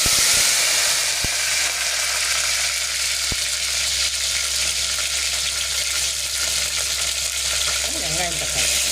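Curry leaves spitting and crackling in hot oil while tempering a fish curry, a steady close sizzle with a couple of sharp pops, no voices.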